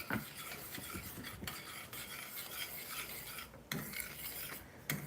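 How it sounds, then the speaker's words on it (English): A spoon scraping the edges of a cooking pan of rajma (kidney bean curry), a continuous rasping scrape with a few sharper metallic strokes, close and fairly loud, with no talking. "Make sure you scrape off the edges"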